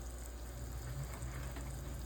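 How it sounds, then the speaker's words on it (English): A pot of water boiling on a stovetop, a soft steady bubbling and rushing hiss, faint and continuous, with no one speaking. "so our water is boiling."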